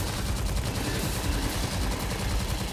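Tommy gun firing continuously in the game Tesla Vs Lovecraft, a loud, dense, unbroken stream of rapid automatic shots without pause.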